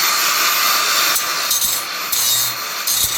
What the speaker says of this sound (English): He said he just grinds them down.